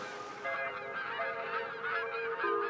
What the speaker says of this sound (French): Les oiseaux migrateurs, comme l'oie bernage du Canada, parcourent les cieux 2 fois l'an